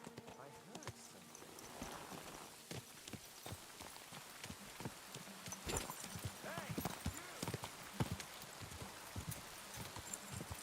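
Hooves of a horse in a medieval video game clip-clop in a steady run of close, sharp knocks, set over faint rain-like patter with a brief neigh, and no talk over them.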